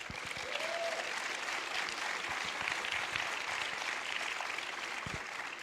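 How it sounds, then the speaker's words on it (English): Steady audience applause fills a school board of education meeting room, continuous dense clapping from a crowd with a few sharper claps near the end, no talk over it. "give him a round of applause"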